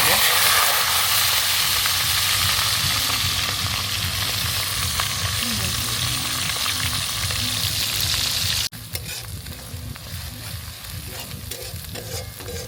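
Whole cumin seeds fry in hot oil for a village pork curry, a loud, dense, steady sizzle with faint crackles that drops abruptly to a quieter hiss partway through, heard alongside outdoor background noise.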